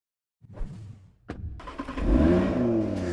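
A Porsche Cayenne Turbo GT SUV rated at 471 kW accelerates on snow, its engine note climbing from a low rumble into a loud, sustained roar after a brief sharp transient, with no talk over it.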